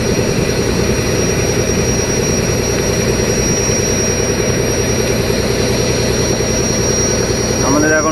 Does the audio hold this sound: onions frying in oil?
no